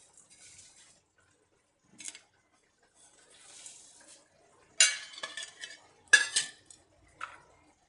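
A spoon stirring sev into a Kathiyawadi tomato curry in a pan, with soft scraping and several sharp metal clinks against the pan in uneven bursts, fairly close and otherwise quiet.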